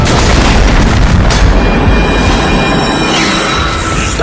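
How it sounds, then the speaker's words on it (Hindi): A heavy explosion blast booms loud and close, a dense rumbling burst that fills the whole moment and slowly decays, with no voices. "धमाका।"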